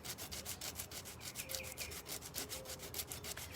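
Cheap dollar-store sandpaper rasps back and forth in fast, even strokes, a continuous rhythmic scratchy rubbing heard up close.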